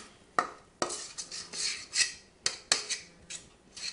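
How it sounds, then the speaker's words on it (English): Spoon scraping sticky whole wheat bread dough out of a bowl onto a board, a series of close, distinct rasping scrapes and knocks with short pauses between them, no voices. "So take your dough and just spoon it out onto the board."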